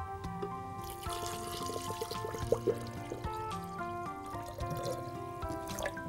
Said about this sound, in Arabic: هنحط دلوقتي الميه